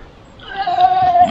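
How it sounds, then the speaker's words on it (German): A single sheep's bleat, a wavering nasal cry rising out of quiet background noise and holding for about a second. "Schafe gefunden."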